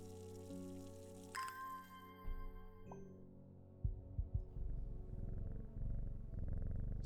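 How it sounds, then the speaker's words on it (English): A cat purrs while being petted in the video game Strange Horticulture, a soft low rumble that follows the tones and clicks of the game's interface and lasts to the end, with no voices. "Does petting my cat make my dread go down?"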